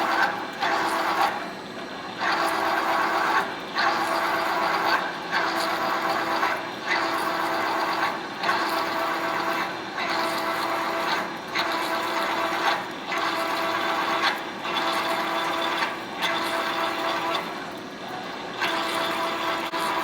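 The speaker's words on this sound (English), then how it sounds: "it's going to go down and it's going to peck at it and pull little bites out just like that" A CNC mill peck drills a track adapter with a big drill on a rugged, unenclosed machine, giving a loud steady mechanical whir broken by regular pulses roughly every second or two as the drill plunges and retracts.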